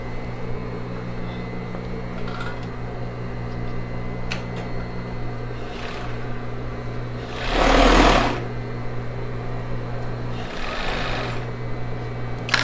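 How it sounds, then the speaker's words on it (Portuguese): A coverstitch machine sewing elastic binding onto a bra runs in steady, close whirring stretches, with one louder burst midway and small handling clicks between. "vou passar o viés elástico aqui agora lá na galoneira"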